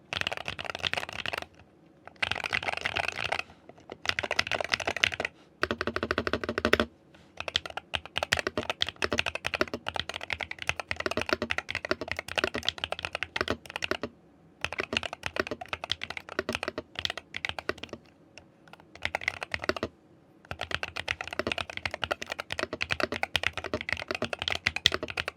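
Royal Kludge C68 keyboard being typed on up close, rapid clacky keystrokes in bursts of several seconds with short silent pauses between them.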